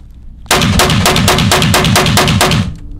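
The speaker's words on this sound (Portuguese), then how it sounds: "Vamos dar agora 15 disparos." A Taurus G3 pistol fitted with a red dot is fired fifteen times in a fast, even string at close range, loud sharp cracks with no talk.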